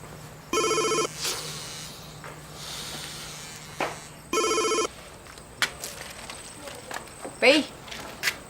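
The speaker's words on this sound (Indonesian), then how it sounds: "tuh kenapa handphone nggak mau diangkat-angkat?" A mobile phone rings in two long electronic bursts, loud and close, left unanswered, with quieter room noises and brief background sounds between the rings.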